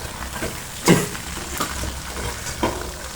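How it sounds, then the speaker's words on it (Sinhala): Chicken fries in a pan with a faint, steady sizzle and a few soft stirring scrapes and clacks, close and quiet with no talking. "chicken බදිනවා"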